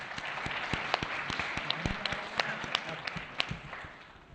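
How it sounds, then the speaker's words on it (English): Audience applause at a university event stage introduction, a scattered crowd clapping at moderate distance with sharp individual claps over a steady wash, fading slightly toward the end. "So we could give a round of applause for Ellie."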